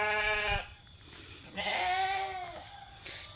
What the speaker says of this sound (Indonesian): Iki wedhus domba.